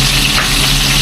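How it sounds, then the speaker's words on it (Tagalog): Meat sautéing in plenty of cooking oil in a pan, a loud, close, continuous sizzle with crackling texture and no pauses. "Sagisayin na natin yung karne natin mga tol. Ito parang naparami yung mantika ako."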